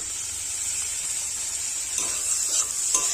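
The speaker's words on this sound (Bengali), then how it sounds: "আরও এক মিনিট খুব ভালোভাবে নাড়াচাড়া করে নেব টমেটো কুচি দিয়ে দেব" Onion, chili and chopped tomato frying in a pan give a steady, close sizzling hiss, with a few faint stirring scrapes near the end and no voices.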